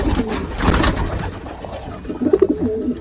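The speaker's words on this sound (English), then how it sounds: "I'm going to show you some more of the pigeons." Pigeons cooing in a loft alongside day-old squabs, soft low throaty coos repeating close by over a busy rustling background with other bird sounds.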